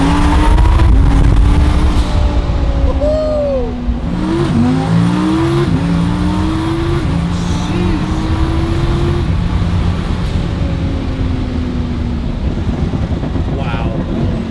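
A twin-turbo Lamborghini Huracan accelerates in fourth gear from low RPM, the engine note climbing in rising sweeps with turbo whistle over loud road noise, heard close from inside the car.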